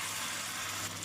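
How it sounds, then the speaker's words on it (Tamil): Taro root chunks frying in hot oil on a medium flame, a steady close sizzle that holds level without pause and with no voices. "எண்ணெய் சூடானதும் சேப்பங்கிழங்கை பொரித்து விடலாம்"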